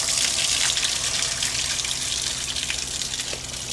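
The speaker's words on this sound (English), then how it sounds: "See, that's just the water in that pipe right there" Water gushing and draining from a hose bib pipe after the supply is turned on, a steady loud rushing flow that holds throughout and eases slightly toward the end.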